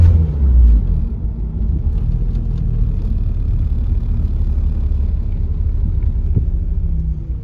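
A Mitsubishi Eclipse with a swapped Honda K20Z1 Type S engine, riding on Evo wheels, drives with a steady low rumble heard from inside the cabin, smooth and even with no talk over it.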